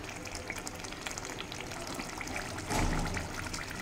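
Masala for egg chicken biryani frying in a pan, a steady close sizzle and crackle with a brief louder surge of stirring near the end.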